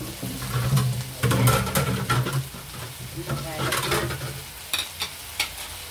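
Pakbet vegetables stir and sizzle in a hot pan: close, continuous frying crackle broken by repeated scraping stirs and clinks, with brief bits of talk in between.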